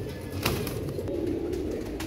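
Kasni Kamangar pigeon of the Asal Bichu breed cooing up close, a steady low throaty murmur running continuously through the moment with a few faint clicks above.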